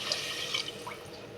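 Water is poured into a pot of rice while cooking dal rice, a brief, soft splashing and trickling heard up close and alone.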